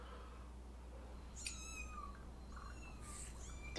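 Kittens meowing on a television show, several short high-pitched mews in two quick bursts, with a faint steady hum underneath and no talking.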